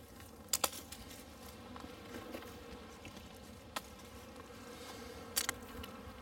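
Honey bees buzzing around a weakened hive down to one or two frames of bees after a three-week spring cold spell, a faint continuous drone with a few sharp close clicks and taps scattered through it.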